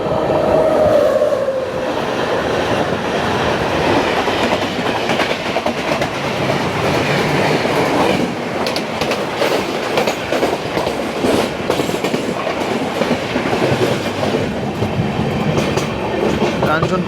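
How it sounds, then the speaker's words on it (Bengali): Kanchankanya Express, the 13149 Sealdah–Alipurduar passenger train, passing close by with a loud sustained rumble and rhythmic clickety-clack of wheels over rail joints, a brief squeal at the start. "সামনে দিয়ে আসছে 13149 আপ শিয়ালদা আলিপুরদুয়ার কাঞ্চনকন্যা এক্সপ্রেস"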